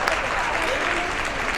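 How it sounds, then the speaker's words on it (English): Audience at a Society of Women Engineers event clapping for an honoree, a loud, dense burst of applause from a nearby crowd, steady across the whole moment with no voices on top. "So big round of applause for Rachel Morford."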